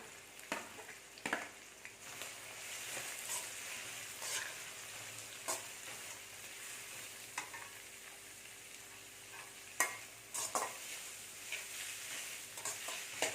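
Onions and halved green chillies sauté in an iron kadai, a steady soft sizzle running throughout with occasional clinks and scrapes of a stirring spoon.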